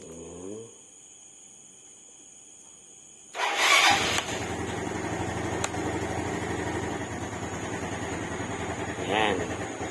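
A Yamaha Mio Sporty scooter engine cranks with a short burst and catches, then settles into a steady, close idle hum that keeps running to the end.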